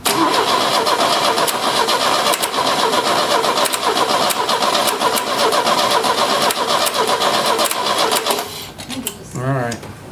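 An Opel GT engine cranks and catches on its first start in 30 years, running loud and rough and uneven for about eight seconds before cutting out, with a voice briefly heard at the end.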